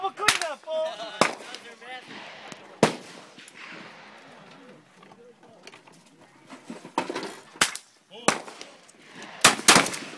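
Gunshots crack out at a private shooting range, several sharp loud reports spread irregularly across the stretch, with people talking and chatting between and around the shots.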